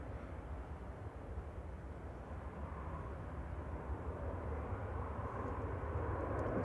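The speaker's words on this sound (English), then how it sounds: "It's Ryanair off to Bratislava." A Ryanair jet taking off from Manchester Airport, bound for Bratislava, gives a steady, broad engine roar that holds throughout and swells slightly toward the end, with no voices over it.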